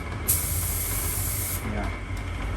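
An F3 spray gun fires with its air turned down, giving one steady, close hiss of about a second and a half that stops abruptly over a low background rumble.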